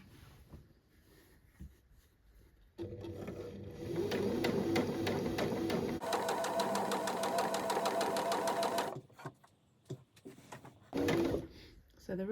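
A sewing machine with a rolled-hem foot stitches a skirt hem, a close, rapid mechanical whirr in two sustained bursts with a rhythmic ticking, then short stops and starts near the end.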